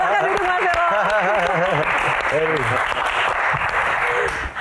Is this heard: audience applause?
yes